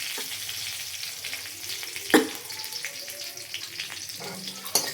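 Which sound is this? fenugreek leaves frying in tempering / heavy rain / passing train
fenugreek leaves frying in tempering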